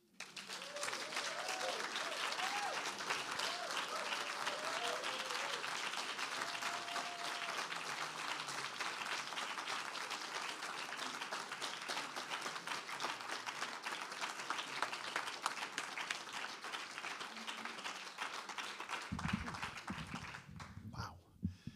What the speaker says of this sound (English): Can we please have another big round of applause for Cameron Awkward Rich?